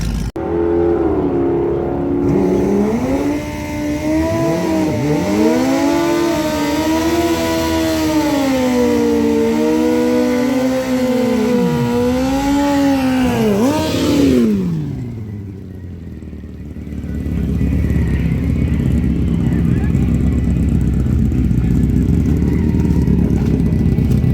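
Kawasaki ZX9 motorcycle engine running loud during a drag strip test pass, revving up and down steadily before dropping off sharply, then a broad rumbling roar returns, close and continuous with no talking.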